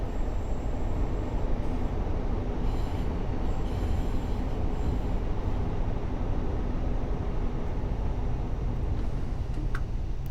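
A TfW Class 153/9 diesel railcar in modernized Arriva half-TfW livery rolls along rails on the Cardiff City network in Train Sim World, a steady loud low rumble with wheel noise and a brief squeal near the end.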